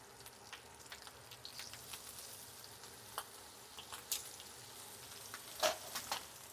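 Seasoned shrimp fry in a skillet with a faint, steady sizzle and scattered soft pops and crackles, heard close up but quiet, without speech.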